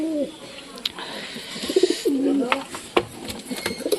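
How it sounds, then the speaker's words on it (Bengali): Pigeons coo in their coop, resting in rows, with several soft, rolling coos repeating near the listener over light background noise and a faint voice. "আর এই যে সব কবুতর লাইন লাইন বসে আছে"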